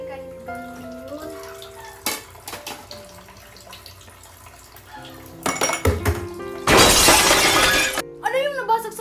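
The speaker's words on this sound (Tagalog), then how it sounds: "yung baso po nabasag" A drinking glass shatters in a kitchen with a loud, sharp crash and scattering tinkle, preceded by clinking dishes and voices.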